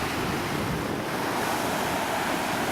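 Black Sea surf at Tuapse in early October rolls in as a steady, loud wash of breaking waves, with wind buffeting the microphone throughout and no voices.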